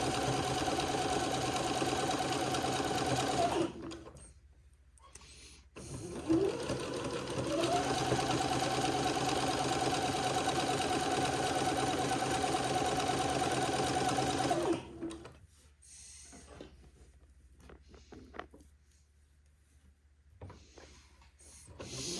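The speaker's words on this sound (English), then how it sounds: "this is going to take me a little while to get both of these seams zigzagged" A sewing machine zigzag-stitches fabric seams on a funeral pall, running in long steady mechanical bursts up close, with one short pause early on and a quieter stretch of lighter, broken sounds at the end.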